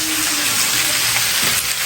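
Onions frying in a pan give a steady, bright sizzle that holds even throughout, close and moderately loud, with faint clinks of stirring beneath it.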